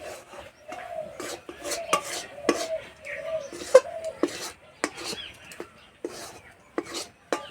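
A sandesh mixture is stirred in a wok, giving repeated scraping and clinking strokes of a utensil against the metal pan at close range, with no voice over it.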